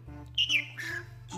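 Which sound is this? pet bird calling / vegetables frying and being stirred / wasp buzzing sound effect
pet bird calling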